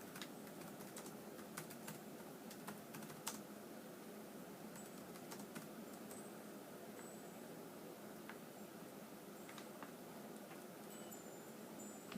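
Steady keyboard typing on a computer, continuous soft clicking throughout under a faint background hiss, no voices.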